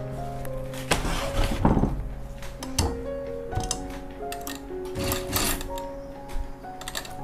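A sewing machine stitching the side seam of a jacket (koti), running in short bursts with ticking, clattering mechanical rhythm and pauses between runs, close and moderately loud.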